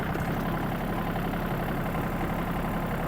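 A Yanmar AF-26 mini tractor's engine runs steadily in first gear, a continuous close, loud mechanical drone with a low rumble and no pauses or talking.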